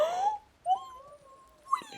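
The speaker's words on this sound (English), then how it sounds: "That's Buckley. Not much of a guard dog." Buckley the dog in The Last of Us Part 1 lets out thin, high whimpers and whines, several drawn-out rising cries close by, with short pauses between them.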